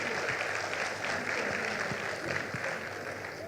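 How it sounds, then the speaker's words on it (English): An audience at a digital health innovation event claps for a panel, a steady wash of applause from a seated crowd heard at a moderate distance throughout. "Let's give the panel a hearty clap as I sit."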